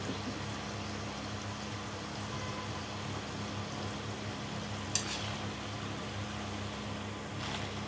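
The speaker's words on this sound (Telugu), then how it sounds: "వీటిని అయితే నేను డీప్ ఫ్రై చేస్తున్నాను" Wheat flour biscuits deep frying in hot oil give a steady soft sizzle and bubbling with a faint low hum beneath it and one brief clink partway through.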